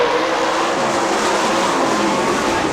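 Sprint cars race around the dirt track at Fremont Speedway, a loud, continuous high-pitched engine roar from several cars at once, held steady and close with no break for the whole stretch.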